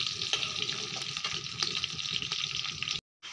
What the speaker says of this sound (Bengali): এখন পেঁয়াজ দিয়ে দিচ্ছি, পেঁয়াজ ভাজা হলে কড়াইতে মাংসটা দিয়ে দেব।